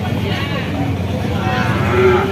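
At a cattle market with Friesian and local breed cows and calves, a calf or cow gives a drawn-out low moo over busy crowd murmur and nearby talk.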